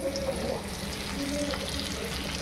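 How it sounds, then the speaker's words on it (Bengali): Onions frying in leftover pork oil in a wok, a steady close sizzle with crackling and occasional stirring, continuous and fairly loud throughout. "আগের তেলেই পেঁয়াজগুলো দিয়ে দিয়েছি। পেঁয়াজগুলো এখন হালকা ভেজে নেব।"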